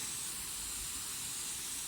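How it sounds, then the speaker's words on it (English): Water from a hose or sprayer hisses steadily onto budded apple trees in an orchard on a frosty evening, a continuous close, even spray with no pauses. "I've heard you can take and spray them down the night before"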